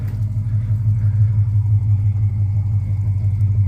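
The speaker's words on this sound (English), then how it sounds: "here's a little rev" A Dodge Charger 5.7 R/T with a 392 engine swap, long tube headers and no catalytic converters rumbles loud and close in a deep, pulsing burble, with no talking.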